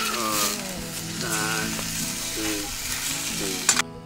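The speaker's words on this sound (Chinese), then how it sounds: "煎的开始了" Food pan-frying over a camp stove at a campsite under bald cypress trees in Nanzhuang, Miaoli, a steady loud sizzle with a person talking over it and a brief clatter near the end.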